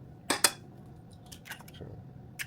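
Eggs are cracked close by: two sharp taps on a hard edge, then fainter clicks and a final tap, with a quiet room behind them and no speech.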